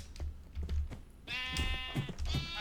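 Pink sheep in a video game bleat in a few distinct, nasal calls that overlap with faint game noise and light keyboard clicks, fairly close and clear.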